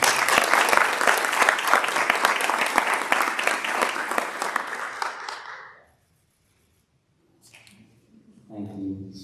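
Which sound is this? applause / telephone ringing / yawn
applause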